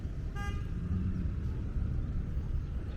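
Busy street traffic on 47th Street in Borough Park, Brooklyn: a steady rumble of passing vehicles with a sharp car horn toot near the start, close and fairly loud.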